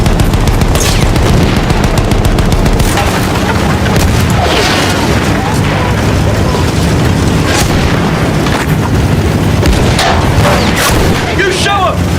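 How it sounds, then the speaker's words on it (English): Machine gun fire in the Battlefield 1 video game, dense continuous booming and rapid gunfire bursts amid loud battle noise, close and intense throughout. "Machine gun ready!"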